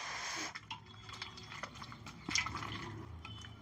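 Amla pulp liquid, squeezed by hand through a kitchen sieve, drips and trickles in faint, soft, irregular patters close by, with no talk.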